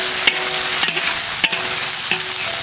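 Beef tripe is stir-fried in a wok with a steady sizzle, and a spatula scrapes and stirs in rhythmic strokes close by, with no talking.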